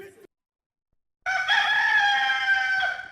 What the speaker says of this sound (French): Coq la chanté, soleil poco levé